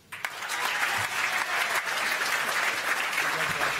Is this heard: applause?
yes